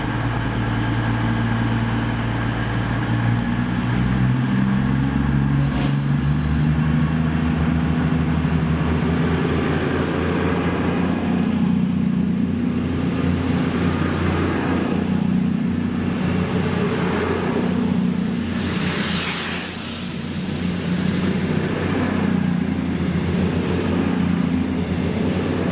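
CrossCountry Class 221 units 221141 and 221010 pass through Stafford station, a loud steady rumble of diesel engines and wheels on rails that builds and holds for about twenty-five seconds.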